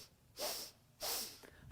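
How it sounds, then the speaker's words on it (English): During a yoga breathing exercise, a person takes quick sniffing breaths in through the nose, then exhales audibly out the mouth, giving two strong breathy hisses with short quiet gaps and a third exhale starting at the end, close and clear. "We're going to take 3 sniffs of breath through the nose, and we're going to exhale out the mouth and make a sound."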